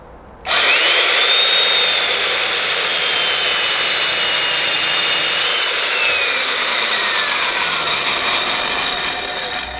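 A Makita 7104 chain mortiser switches on and runs steadily for several seconds, a loud, close, high-pitched electric whine with a faint shifting tone and a gradual fade near the end.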